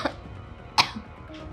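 Two short, dry coughs from a person indoors, the first faint and the second sharper, with a quiet pause between them.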